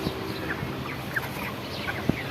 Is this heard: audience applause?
no